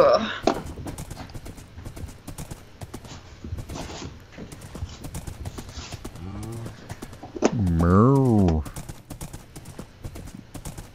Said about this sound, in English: I'll run my horse around here.